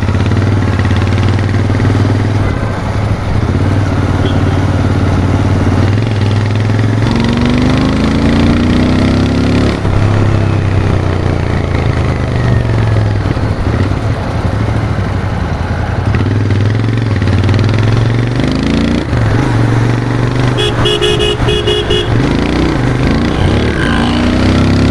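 A Royal Enfield Continental GT 650 motorcycle engine runs loud and close for the whole stretch, a steady throbbing rumble that rises and falls slightly with the throttle.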